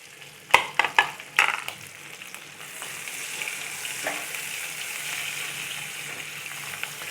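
Capsicum and coriander stems hit hot oil in a pan for paneer butter masala, giving a few sharp crackles and pops at first, then a steady close sizzle of frying.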